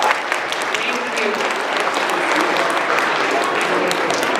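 Audience applause for a school choir at a school Veterans Day assembly, a dense steady wash of many hands clapping with some voices mixed in, loud and sustained throughout.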